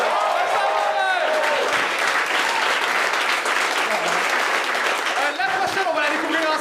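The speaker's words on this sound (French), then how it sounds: "On peut applaudir Vincent Morin." A studio audience at a French variety show applauds warmly for a performer, with dense sustained clapping that fills the whole stretch, while voices talk and cheer over it.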